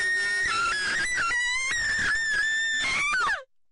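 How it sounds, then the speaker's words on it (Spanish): A sustained, shrill scream used as a horror sound effect in a SpongeBob creepypasta, a single loud wavering cry lasting about three seconds before cutting off abruptly, heard alone. "mi paz se vio interrumpida por un grito aterrador que resonó por toda la ciudad."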